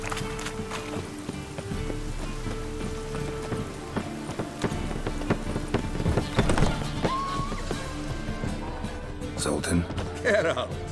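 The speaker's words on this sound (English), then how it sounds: "Must be mad running around in this rain." Rain falls steadily in The Witcher 3, a soft continuous patter mixed with horse hooves clip-clopping and characters talking over it.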